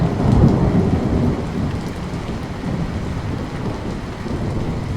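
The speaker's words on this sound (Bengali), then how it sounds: "অনেক বৃষ্টি পড়ছে" Heavy rain pours down steadily in a dense, continuous roar, with a low rumble underneath throughout.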